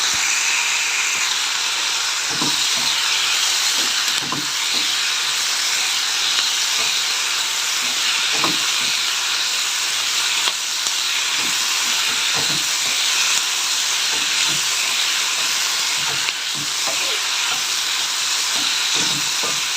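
Four finely chopped tomatoes fry in a hot pan for a spinach and onion dish, making a loud, steady sizzle with scattered soft crackles and pops throughout.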